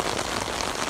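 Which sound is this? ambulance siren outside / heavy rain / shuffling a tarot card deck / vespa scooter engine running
heavy rain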